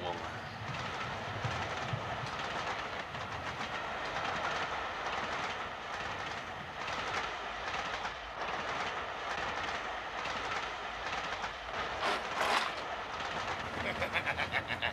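A train running steadily on rails, with a continuous rumble, rhythmic clickety-clack of the wheels and a brief squeal near the end, while people talk over it.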